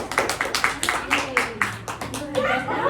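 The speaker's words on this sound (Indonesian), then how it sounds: "Beri tepuk tangan untuk Mbak Putri ya" Classroom clapping for a student, a quick run of distinct hand claps in a steady rhythm, close and fairly loud, with talking and light laughter mixed in.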